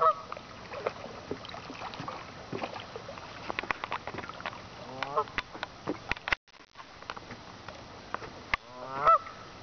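Geese honk repeatedly in a noisy flock, their calls overlapping with splashing and movement, while a voice calls out over them.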